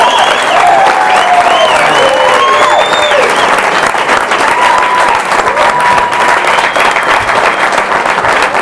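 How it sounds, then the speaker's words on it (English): Studio audience applauds comedian Barry Crimmins as he is welcomed onto a 1988 show, a loud, steady wash of clapping that fills the whole stretch without letup. "Always a pleasure to have the most politically insightful comedian in the area, Mr. Barry Crimmins. A nice round of applause."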